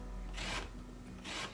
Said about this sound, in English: So I'm just going to zest these quickly, and then I shall squeeze the juice out.